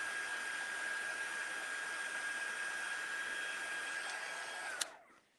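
A heat tool blows steadily with a loud, even whoosh as it warms the back of a shaped paper card, then clicks off and winds down abruptly at the end.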